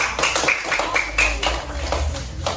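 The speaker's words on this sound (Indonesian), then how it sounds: "kasih tepuk tangan untuk kelompok Kuta" A primary school class claps for a group of pupils in a classroom, a short burst of uneven, rhythmic clapping with loose beats and a low room hum underneath.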